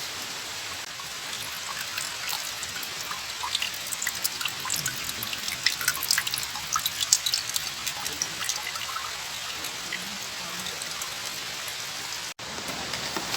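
Water splashes steadily while someone washes their face in a rainforest, a close, fairly quiet patter of drips and splashes that runs throughout.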